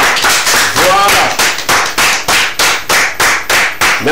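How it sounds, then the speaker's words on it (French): An audience claps together in a steady rhythm, loud and close, with one brief voice rising over the beat near the start. "Applaudissez pour la personne."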